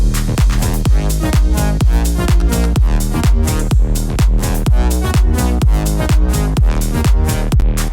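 Full electronic dance track titled Lose My Soul, with punchy kick drums on a steady four-on-the-floor beat, closed and open hi-hats and layered synths, loud and continuous throughout.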